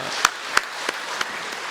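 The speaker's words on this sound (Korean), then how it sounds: "우리 크게 환영하는 박수 한번 쳐주시고요." A church congregation claps to welcome an elder. A few sharp, evenly spaced claps stand out close by against a soft wash of lighter clapping, and the sound fades after under two seconds.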